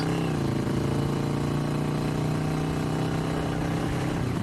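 A 2021 Kawasaki Vulcan S 650 with an aftermarket exhaust idles with a deep, steady throaty rumble, close and continuous, with a slight rev change partway through.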